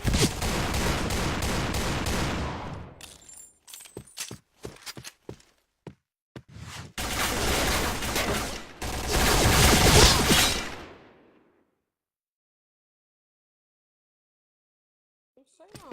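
Gunfire in a video game shooter comes in dense bursts of loud automatic shots and scattered single cracks, broken by short gaps and ending in silence.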